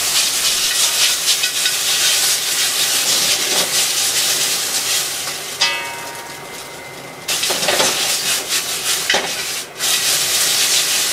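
Yakisoba noodles are stir-fried and tossed in a pan, producing a loud, continuous sizzling hiss with rhythmic scraping and clattering as the pan is shaken, briefly quieter in the middle.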